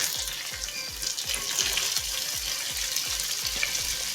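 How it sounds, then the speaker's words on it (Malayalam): Sliced carrots sizzle steadily in a hot pan for chicken fried rice, with a regular series of soft low thumps from stirring or tossing running under the constant frying hiss. "ആദ്യം നമുക്ക് ക്യാരറ്റ് ചേർത്ത് കൊടുക്കാം."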